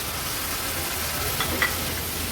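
Ingredients hitting hot oil in a pan while cooking an Agri-Koli style seafood thali, giving a steady, dense sizzle and crackle with a couple of faint clinks near the end.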